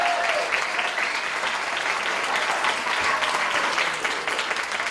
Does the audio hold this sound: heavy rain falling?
no